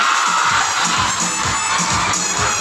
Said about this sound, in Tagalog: Gusto ko yung palakpak na masaya.